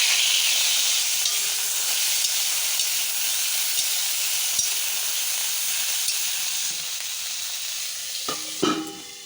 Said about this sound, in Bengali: কুটে রাখা ফুলকপিটা ভেজে নেব, এতে আমি নুন হলুদ মাখিয়ে রেখেছি।